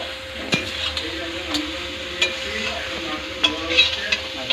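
A spoon scraping and stirring mutton (goat meat) in a pan with water just added, soft sizzling underneath and a few sharp metallic clinks against the pan, close by with no talking.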